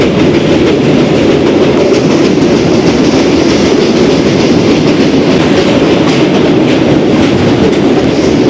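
MEMU train rolling across the Godavari river bridge, heard from on board as a loud, unbroken rumble with rhythmic wheel clatter and no voices.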